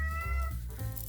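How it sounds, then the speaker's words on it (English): A cat meows close by, a drawn-out plaintive call filling the short clip with no other voices. "That's not me, that's my cat."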